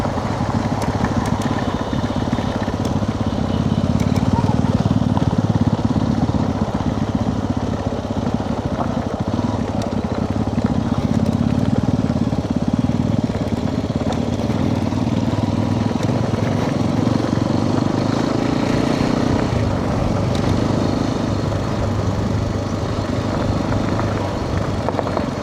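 Bajaj Pulsar NS200 motorcycle riding off-road on a dirt trail, its engine droning steadily and loud close by for the whole stretch, with a rough crackling rumble as it bumps over uneven ground.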